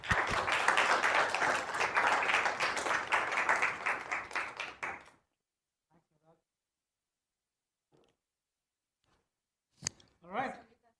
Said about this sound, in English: let's give a huge round of applause and welcome Anis on stage